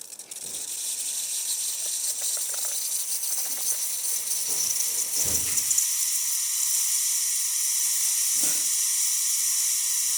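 Steam wand of a Breville Oracle Touch espresso machine hissing steadily and loudly for about ten seconds, with faint mechanical clicks and rattles underneath and no talk.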